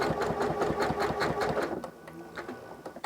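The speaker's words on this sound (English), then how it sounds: "We're going too fast with my decorative machine, or decorative quilt stitches." A sewing machine stitches decorative quilt stitches in a fast, even mechanical rhythm, then slows and becomes irregular as it nears a stop, heard up close.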